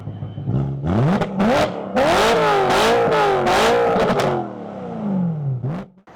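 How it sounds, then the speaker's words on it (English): BMW E90 M3 with a naturally aspirated V8 revs hard several times in quick succession, each blip climbing and falling sharply, loud and close with a brief lull before a final rev. "the novelty and the charm of having a V8 and just hearing it scream and hearing it rev out"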